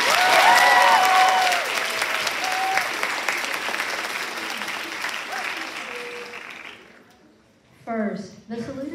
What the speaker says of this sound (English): I just want a round of applause.